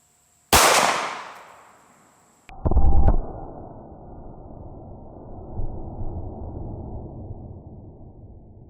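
A Glock 17 fires a hollow point round into a ballistics gel block covered with a thin t-shirt. One sharp, loud report rings out and fades, then a second heavy thump is followed by a low lingering rumble.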